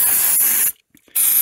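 A loud aerosol can of engine degreaser hisses in a burst, stops briefly, then starts again, close to the microphone.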